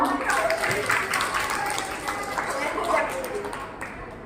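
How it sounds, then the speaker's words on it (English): Teachers at a primary-teaching workshop at LMJPS clap together in a brief, uneven burst of applause that fades toward the end, with a voice talking over it. "Clapping for all."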